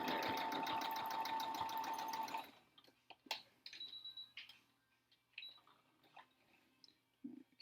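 A sewing machine runs a rapid, steady straight stitch through fabric for a mask, loud for about two seconds, then stops and gives way to scattered clicks and handling noises.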